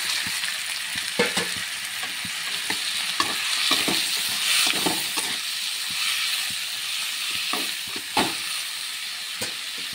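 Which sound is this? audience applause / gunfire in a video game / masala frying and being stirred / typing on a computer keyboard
masala frying and being stirred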